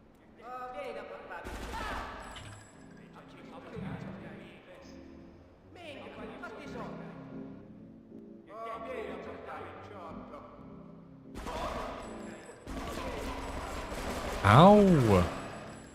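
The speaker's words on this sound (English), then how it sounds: "Stop shooting so hard." Gunfire in the GTA mod Frosted Winter comes in several bursts of rapid shots separated by pauses, with a louder final burst, as a voice talks over parts of it.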